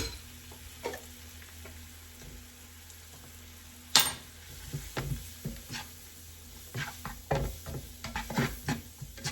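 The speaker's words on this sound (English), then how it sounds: "Adding the flour and the garlic here, it said to do it just till everything was coated." Quiet scraping of a spoon stirring flour and garlic into a jackfruit stew in a pot, with faint sizzling and occasional clinks against the pot, close and without talk.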